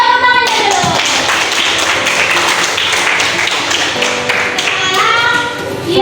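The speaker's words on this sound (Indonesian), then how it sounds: "Iya, tepuk tangan dulu." Students in an Indonesian classroom clap their hands together, a loud continuous patter of close clapping lasting several seconds, with chanting voices heard at the start and end.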